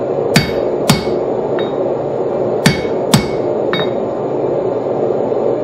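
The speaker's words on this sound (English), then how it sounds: "I'm going to score it a little bit. With my chisel here." Hammer blows on a chisel scoring the jaw of forged blacksmith tongs: five sharp, ringing metallic strikes at uneven intervals, close and loud, over steady background hiss.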